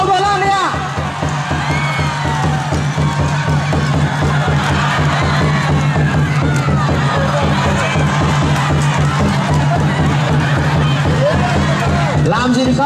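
Spectators at a men-versus-women wrestling bout in Vietnam cheer and shout loudly, a continuous roar of whoops and excited voices over a persistent low hum, with an announcer's talk mixed in.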